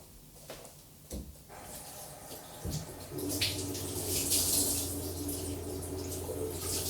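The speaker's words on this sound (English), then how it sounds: "I'm just going to wash this up as well because we've managed to get a bit of coffee in" Tap water runs steadily at close range while coffee things are rinsed and washed up at a kitchen sink, with small knocks of handling at the start before the flow grows fuller and louder.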